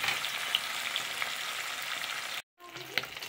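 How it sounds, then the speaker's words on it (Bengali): Rui fish pieces lightly frying in oil, a continuous soft sizzle with occasional small pops, broken by a brief moment of silence before the hiss resumes. "মাছগুলো একদম হালকা হালকা করে ভাজবো, কারণ ঝোলের মাছ খুব বেশি ভাজা হয় না,"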